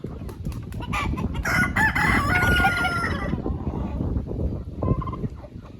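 Chickens and roosters in an enclosure cluck and squawk densely and loudly, with a rooster crowing through the middle and scattered calls continuing until a final short cry near the end.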